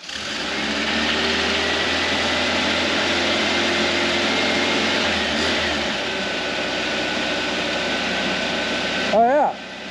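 The air-cooled engine of a 1975 Volkswagen Super Beetle, running after twenty years of sitting, drones steadily on its first drive, with a low rumble that fades partway through and a brief sharp rev near the end.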